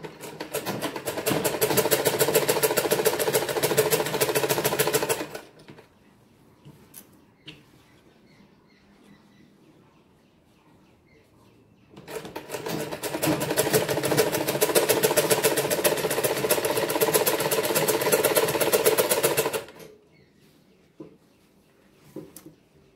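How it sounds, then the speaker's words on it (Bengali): Electric sewing machine stitching the folded hem of a girl's cloth half pant, running in two steady bursts of about five and seven seconds with a quiet pause between. "এভাবে আমি পুরোটা সেলাই করে নেব।"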